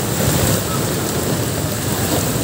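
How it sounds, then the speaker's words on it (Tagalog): Heavy rain roars steadily and loudly beside the Marikina River, a dense unbroken hiss with deep rumbling underneath, and no voices over it. "Tapos ang lakas pa ng ulan."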